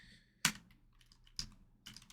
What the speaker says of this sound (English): So we'll go ahead and type that out.